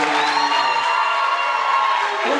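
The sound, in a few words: audience applause and cheering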